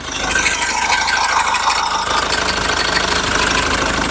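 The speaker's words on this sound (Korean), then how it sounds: "이제 엔진 사운드 확인을 할게요." A SsangYong Rexton Sports Khan pickup truck engine idles loudly and steadily, with a close, even rattling knock and vibration throughout.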